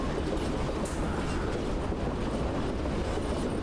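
Steady rumbling rattle of train cars in the horror game REVEIL, a continuous loud clatter of wheels and carriages with faint clickety-clack running throughout and no voices.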